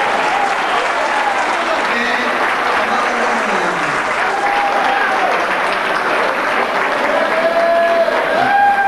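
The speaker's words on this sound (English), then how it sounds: "Let's hear it for Ann Tresser" Sustained audience applause at a school's 30th anniversary reunion, a loud, steady wash of clapping with a few cheers and whistles mixed in.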